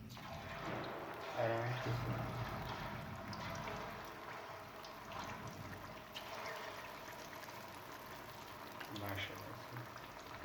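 Fish slides into hot frying oil for a Lahori-style village fish fry, and a steady bubbling sizzle carries on throughout, fairly close, with brief speech over it.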